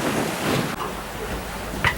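Wind roars steadily over rough seas aboard a sailboat running fast in 6-foot waves off the Florida panhandle, a broad rushing noise with a brief sharper splash near the end.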